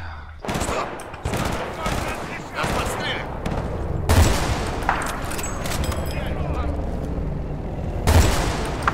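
Rapid bursts of automatic gunfire and explosive cracks from the video game Battlefield 2, loud and repeated in clusters across the clip, with sharp booms standing out near the middle and end.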